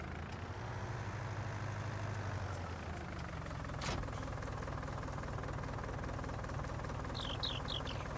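Tractor engine in the Farming Simulator 19 game rumbles steadily at a low, constant idle for the whole stretch, with a brief sharp click near the middle and a few faint chirps toward the end.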